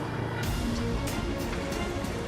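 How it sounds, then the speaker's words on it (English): Molten metal bubbles and seethes as magnesium vaporizes at over 1,500 degrees in a foundry melt, a dense continuous roiling hiss with brief sharper bursts, loud and close throughout. "The bubbling sound you can hear stems partly from the magnesium."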